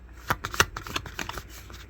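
A deck of cards being shuffled by hand, a quick run of crisp riffling flicks and taps lasting under two seconds, close and alone.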